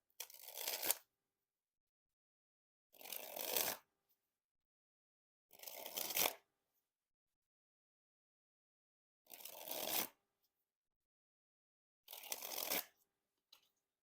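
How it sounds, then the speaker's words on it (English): Shin Lim NOC playing cards dribbled from hand to hand in five quick, crisp riffling bursts spaced a few seconds apart, close and clear with silence between. "And now time for the dribble."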